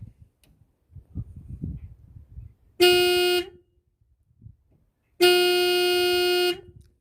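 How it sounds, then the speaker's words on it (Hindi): Two loud car horn blasts from a 2001 Maruti 800, heard from outside with the door open, each about a second long, with brief pauses, and faint rustling and handling noise before the first. "तो मैं इसको आपको हॉर्न बजा के दिखाऊंगा"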